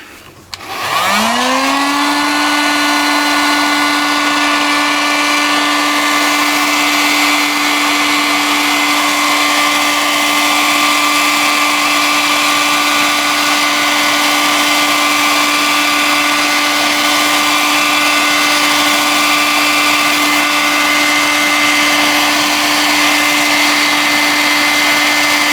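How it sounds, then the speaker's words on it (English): A heat gun blasts steadily while warming an engine part before a 6203 bearing is fitted during a Peugeot BBV engine restoration. It is a loud, constant whirring roar with a fixed whine that spins up in the first second and then holds. "I'll give it a bit of a heat with a heat gun"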